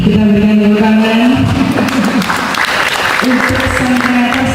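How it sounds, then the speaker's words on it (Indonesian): Applause from the audience at a Puteri Indonesia 2014 pageant gathering, steady and full for several seconds, mixed with a tonal hum and a voice talking over it. "kita berikan tepuk tangan"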